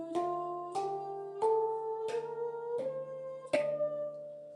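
A D kurd handpan with a natural minor scale, six struck notes stepping upward at a steady, unhurried pace, each ringing with a soft metallic shimmer and overlapping sustain, played alone.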